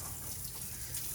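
Water gushes steadily over a sacrificial cow being bathed ahead of Qurban delivery, a continuous close splashing wash with no voices.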